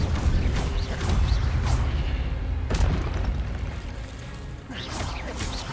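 Spell effects from Hogwarts Legacy, an Incendio fire spell cast in combat: loud whooshing bursts and booms over continuous rumbling game noise, with sharp transient hits near the start, middle and end.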